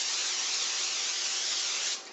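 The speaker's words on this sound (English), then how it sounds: "take your cookie sheet and lightly spray all of your cookie sheet" Cooking spray hissed onto a cookie sheet in one continuous close, bright burst of about two seconds that tapers off at the end.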